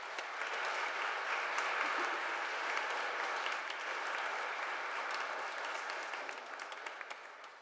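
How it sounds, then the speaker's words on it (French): A church congregation applauding during Pentecost Sunday Mass, a dense, steady wash of many hands clapping that holds for several seconds, then thins and fades toward the end. "une bonne main d'applaudissements pour Catelea"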